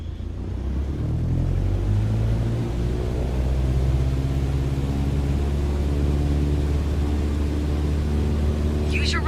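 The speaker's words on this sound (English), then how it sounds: "Apply full power and I'll walk you through the takeoff as we go." A light airplane's engine held at full power during a takeoff roll in Microsoft Flight Simulator, a steady loud droning rumble with a sustained low hum lasting throughout and no break.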